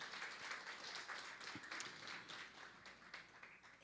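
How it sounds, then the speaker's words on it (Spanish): A church congregation gives a round of applause to God in a soft, even spatter of clapping throughout the room. It stays moderate in level, and a sharp knock breaks through at the very end. "Denle un aplauso al Señor"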